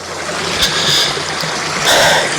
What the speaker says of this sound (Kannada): ಇಲ್ಲಿಂದ ನೀರು ಹರ್ಕೊಂಡೋಗಿ ಈ ಗ್ಯಾಪಲ್ಲಿ ಇಷ್ಟು ಜೋರಾಗಿ ಹರಿತದೆ ನೀರು